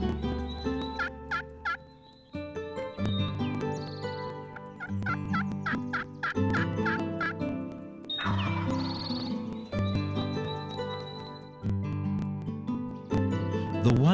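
A flock of wild turkeys in Vermont gobbling repeatedly, several birds calling in overlapping bursts with short gaps, close and clear, with no talking.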